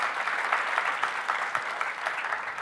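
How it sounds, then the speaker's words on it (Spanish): A church congregation applauds a worship music group, a dense, steady wash of many hands clapping at moderate distance, sustained without pause. "Damos un aplauso a estos chicos de la alabanza."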